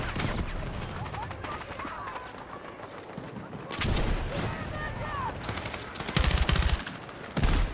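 Battlefield 6 gunfire in a busy firefight: a dense, continuous wash of shots and explosions, with several loud close bursts near the end and faint voices mixed in.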